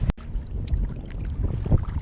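Gusting wind on open water while bass fishing from a kayak, a close low rumbling roar against the microphone that swells and eases over a couple of seconds, with a brief sharp knock near the start.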